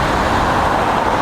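Steady road traffic in Singapore, a dense continuous roar of passing cars, buses and trucks, loud and close, with no voices over it.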